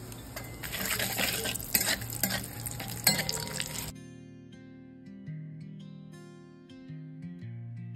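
Whole garam masala, bay leaf and a dried chili hit hot oil left from frying eggs, giving a loud, dense sizzle for about four seconds that cuts off abruptly into soft, steady tonal music.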